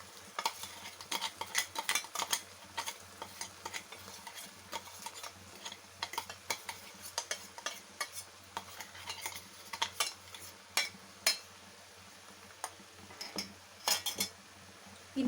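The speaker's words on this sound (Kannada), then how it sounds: "ಕಡಲೆ ಬೀಜ ಮತ್ತು ಮೆಣಸಿನ್ಕಾಯಿ ಹಾಕ್ಬಿಟ್ಟು ಅದನ್ನು ಇದಕ್ಕೆ ಹಾಕ್ತಾಯಿದ್ದೀನಿ" A spoon scrapes and clinks in a pan, stirring a moringa leaf stir-fry with peanut and chilli powder, a soft sizzle beneath; quiet, irregular strokes with no talk.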